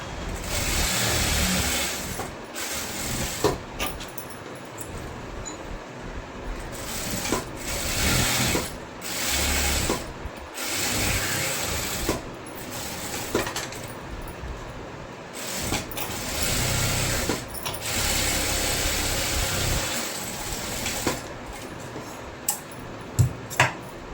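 A sewing machine stitches a blouse in repeated mechanical whirring runs with brief pauses between bursts, rhythmic and close by, with no talking.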